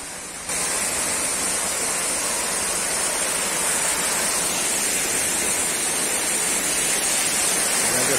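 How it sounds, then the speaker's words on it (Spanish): Waterfall on Guarruz creek rushing as a steady, dense roar of falling water, fairly close and loud, continuous throughout with no voices over it. "Y la cascada que ya comienza a escucharse."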